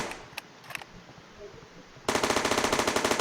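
Rapid automatic gunfire from a Unity third-person mobile shooter game, starting abruptly after a quiet lead-in with a few faint clicks, then loud steady bursts of evenly spaced shots to the end.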